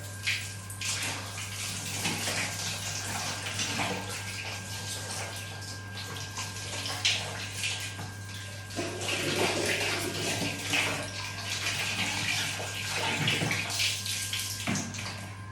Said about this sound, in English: we will run the water to clear the waste from the water waste strap